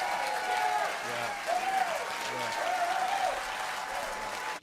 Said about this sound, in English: this got a standing round of cheers and applause